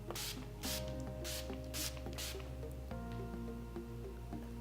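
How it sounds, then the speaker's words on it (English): An Urban Decay All Nighter setting spray is misted over finished makeup. About five quick, soft, hissing spritzes come in a row, faint and close, over quiet background music. "I'm going to set everything using my Urban Decay All Nighter setting spray"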